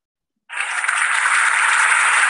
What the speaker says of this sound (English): Can we have an applause for Kresta too?